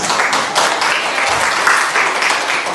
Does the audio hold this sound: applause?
yes